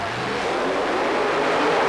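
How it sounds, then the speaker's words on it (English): A supercharged big block Chevrolet-powered monster truck roars loud and continuous during a run at a USHRA monster truck event in Worcester, Massachusetts, a dense unbroken engine blast with no talk over it. "the supercharged big block Chevrolet powered locomotion entry of Perry, Oklahoma's Larry Jarrett."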